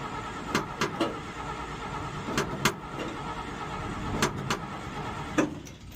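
An old car engine cranks over repeatedly without catching, the starter whirring in several short bursts separated by brief pauses, close and fairly loud, with no talking.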